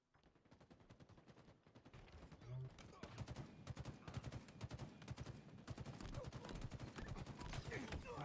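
Rapid gunfire bursts from a weapon in the Halo Infinite video game, dense and continuous across the clip with repeated sharp shots, loud and close amid game effects.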